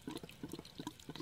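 Water from an RV city water connection runs into the tank as it fills, a steady close splashing flow with faint dripping from a leaking fitting.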